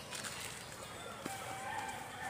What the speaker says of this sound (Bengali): এই যে দেখেন মুরগিগুলা, মাশাআল্লাহ দেখেন।